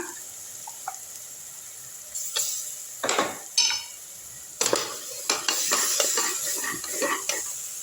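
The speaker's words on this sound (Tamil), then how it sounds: "நல்லா வதக்கி விட்டுருங்க" Onion and tomato sautéing in a pan for a vatha kuzhambu, with a faint sizzle broken by sharp bursts of spatula stirring and scraping that become denser and louder in the second half.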